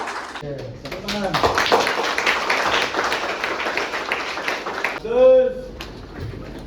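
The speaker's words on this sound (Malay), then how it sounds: "Tepuk tangan." Audience applause during a visit to a palm oil mill: a crowd claps steadily for several seconds with dense, moderately loud patter, followed by a voice speaking near the end.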